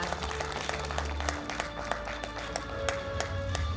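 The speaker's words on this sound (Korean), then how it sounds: "여러분 계속해서 박수 부탁드리겠습니다" Audience applauding at the opening ceremony of the 2021 Pohang Earthquake International Forum, a sustained patter of many hands clapping in a hall with some low rumble underneath, with no talk.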